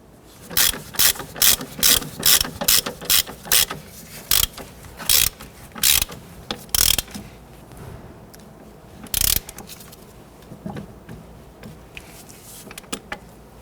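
A ratchet tightens a nut on the front suspension of a 1992-1996 Toyota Camry during a ball joint job, with quick bursts of sharp clicking strokes up close, then a pause and a few sparser clicks.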